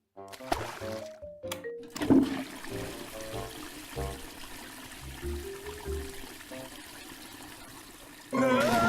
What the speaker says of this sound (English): we're just going to flush ourselves down the toilet